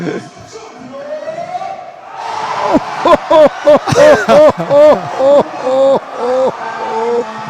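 Crowd at an all-star dunk contest chanting and cheering in rhythmic bursts, loud and close, with shouted call-and-response rising through the middle and carrying to the end.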